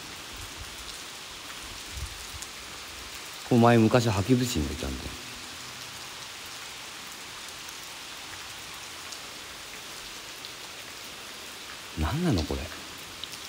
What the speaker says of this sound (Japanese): 雨がすごいなぁ。